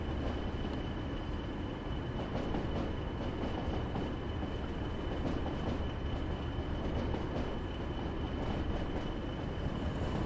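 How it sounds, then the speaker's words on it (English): Train locomotive applying its brake while approaching a stop, heard from inside the cab as a steady, loud rolling roar with continuous rail rumble and faint rhythmic clicks throughout, with no talk. "Give it a little bit of loco brake."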